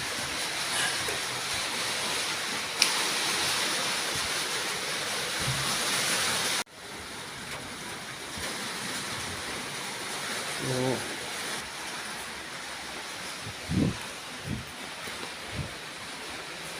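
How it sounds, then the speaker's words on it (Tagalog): Strong wind roars steadily in broadband noise, with a sudden drop in intensity partway through and a few brief thumps and knocks later. "So, malakas na po ang hangin dito guys."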